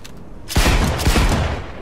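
Sniper rifle fire in the video game Cyberpunk 2077: after a quiet lead-in, a loud sharp report kicks in, followed by a few more heavy shots and rumbling echoes, with no talking.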